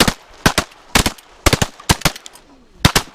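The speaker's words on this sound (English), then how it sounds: "Shoot him, guys!" Shotguns fire in rapid clusters at teal during a duck hunt over water, sharp loud blasts in quick pairs and triples separated by short pauses.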